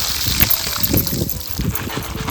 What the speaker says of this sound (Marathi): त्याच्यामधलं पाणी काढून घेतोय सर्व कोकमांमध्ये.